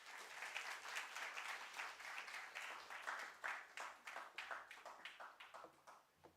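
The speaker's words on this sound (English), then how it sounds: "Let the claps be on" Audience applause at a stock exchange listing ceremony for Transrail Lighting Limited: a modest group claps in a loose, uneven rhythm with distinct individual claps, fading and thinning toward the end.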